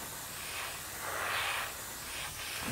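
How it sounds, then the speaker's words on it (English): A soft, airy hiss swells and fades in short bursts as an airbrush sprays a thin coat of Vallejo Metal Color paint close by, with no voices. "I've got my airbrush loaded up here"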